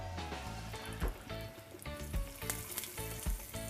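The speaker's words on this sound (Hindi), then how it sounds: "कड़ी पत्ता थोड़ा दूर से डालिए. क्यों? तो वो तेल में जाने के बाद क्रैक होगा" Curry leaves crackle and spit in hot oil, a dense, close sizzle with sharp pops scattered throughout.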